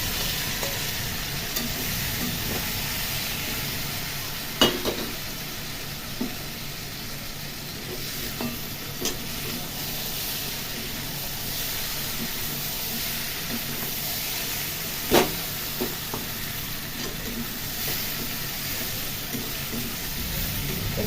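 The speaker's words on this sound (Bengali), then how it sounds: "যে পটল চিংড়ি মাছ আলু ভাজা রয়েছে সব আমি একসাথে দিয়ে কষিয়ে" Pointed gourd, shrimp and fried potatoes stir-frying together in a pan, a continuous moderate sizzle and hiss with a few sharp utensil knocks against the pan, close and steady throughout.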